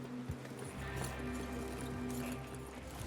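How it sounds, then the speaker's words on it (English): Horse hooves clip-clopping in the Western action game Red Dead Redemption 2, a quiet, steady series of hoofbeats under a low hum of background music and ambience. "Get your horses ready."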